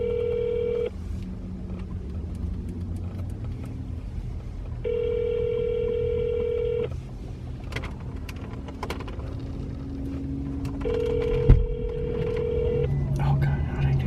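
A phone line ringing during a call to a Dunkin' store, with three long evenly spaced ring tones separated by quiet gaps and a brief knock near the end.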